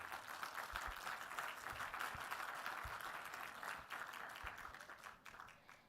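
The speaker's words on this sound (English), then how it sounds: "Let us welcome him with a big round of applause." A hall audience at a panel discussion breaks into sustained applause to welcome a panelist, dense clapping holding steady for about five seconds before thinning out at the end.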